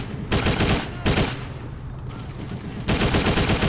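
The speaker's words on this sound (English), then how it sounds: "And now a civilian is shooting at me." Gunfire in the PC game Driv3r, where a civilian opens fire: dense, rapid bursts of shots come in three loud volleys with a short quieter stretch between them.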